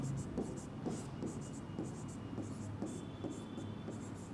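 Chalk or marker writing on a classroom board during a commerce lesson, a steady run of short tapping, scratching strokes at close range, quite prominent, with faint background voice at times.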